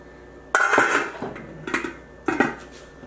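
Stainless steel pots, pans and lids from an 11-piece cookware set, including a 3-quart saucepan and a steamer, clank and rattle in three bursts of metallic knocking and scraping, close and fairly loud, with no talking.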